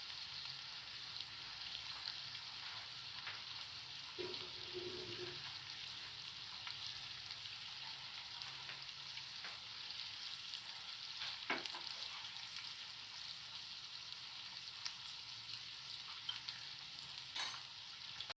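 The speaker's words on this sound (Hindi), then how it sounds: "थोड़ा सा हम इनको फ्राई करेंगे।" Eggs and vegetables frying in a pan for Chinese pulao, a steady soft sizzle running throughout with a few louder stirring clatters near the middle and end.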